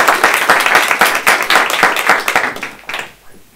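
Close, loud audience applause at a university talk on democracy in Pakistan, dense rapid clapping that tapers off and stops near the end.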